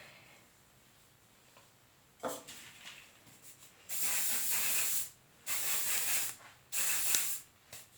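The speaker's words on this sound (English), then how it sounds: "I'm kind of obsessed with the hairspray" Hairspray misted onto hair while styling beachy curls: three loud, close aerosol hisses, each lasting about a second, after a quieter stretch with small handling clicks and no talk.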